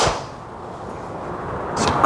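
A TaylorMade Stealth 2 golf driver strikes a ball with a single sharp crack at the start, followed by a brief airy whoosh as the ball flies off and a faint noise near the end.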